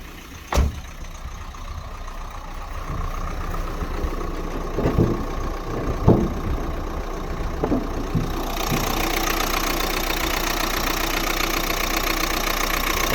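A 2012 Renault Scenic 3 1.5 diesel engine, 110 horsepower, idles steadily nearby with a low rumbling clatter, a few knocks and thumps, then the hum grows louder and brighter near the end.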